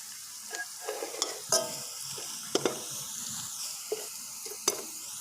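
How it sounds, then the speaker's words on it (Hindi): Spices hitting lightly browned onions in a pan for a mutton liver masala, giving a soft sizzle of frying with scattered clinks and stirring scrapes, close and fairly quiet. "प्याज़ों को मैंने हल्का सा ब्राउन कर लिया है। अब इसके अंदर ये मैं मसाले डालने लगा हूँ।"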